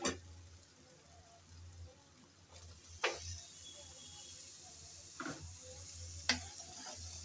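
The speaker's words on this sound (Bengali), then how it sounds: "কলাতোড় দিয়ে আবারও নেড়ে চেড়ে ভালো করে সব একসাথে মিশিয়ে নেব।" Banana stem being stirred into fried spice paste with prawns in a pan: a faint, steady sizzle broken by a few sharp spatula taps and scrapes, close by and quiet, with no talking.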